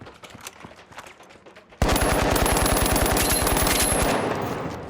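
Rapid automatic gunfire in the video game The Finals bursts in after a quieter stretch, a fast, even stream of loud, close shots that holds for a couple of seconds before easing slightly.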